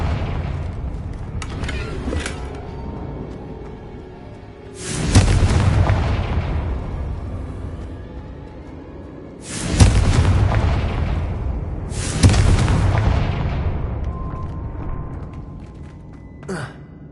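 Confringo fire spell blasts in Hogwarts Legacy, several loud booming explosions bursting out one after another with rumbling tails, separated by quieter stretches of game ambience.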